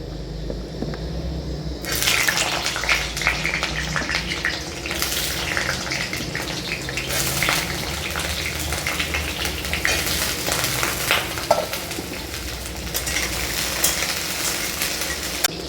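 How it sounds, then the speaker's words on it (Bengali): Potatoes frying in hot mustard oil in a wok give a steady, close sizzle with a watery hiss that swells suddenly after a quiet start and holds with small crackles throughout. "কড়াইতে আমি সর্ষের তেল দিয়ে দেবো তেল গরম হয়ে গেছে এরপর আমি আলুগুলো ভেজে নেবো"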